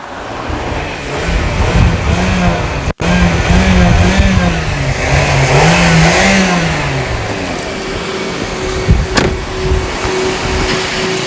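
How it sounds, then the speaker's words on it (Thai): A 2007 Toyota Vios sedan engine runs steadily, its pitch rising and falling through several revs, loud and close with no talk over it. "ฟังเสียงเครื่องกันครับ"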